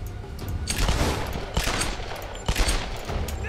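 Rapid gunfire in the Tomb Raider video game, with dense bursts of shots in several close, loud volleys and no talk over them.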